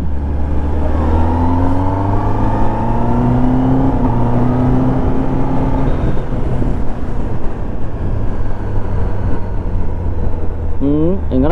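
A superbike engine runs steadily nearby, a loud droning hum with shifting tonal pitch and wind rush, while a person talks over it.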